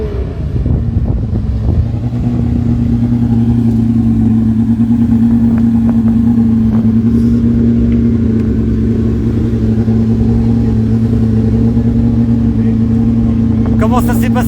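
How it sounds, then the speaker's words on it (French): A Porsche rally car on a rally stage holds a steady, droning engine note for the whole stretch, loud and close, with people talking alongside it. "Première Porsche."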